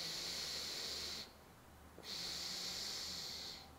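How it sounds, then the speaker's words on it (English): Open-mouth exhales during a breathwork exercise for stress and anxiety, heard as two long, close, airy breaths of steady hiss separated by a brief pause, with no talk. "Open mouth, exhale, last one."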